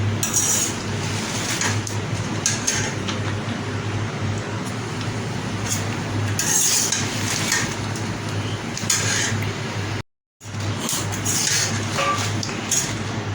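Chilies are stirred in a pan with constant scraping and the clink of a metal utensil against the pan over a steady background hum. One brief gap of silence breaks the sound near the end.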